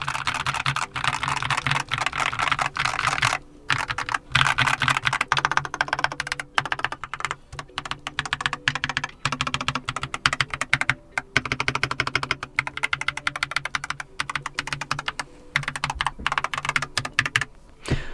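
A long stretch of fast, continuous typing on a Keychron K8 mechanical keyboard with lubed switches, close up, with clacky, hollow-sounding keystrokes and only short breaks in the rhythm.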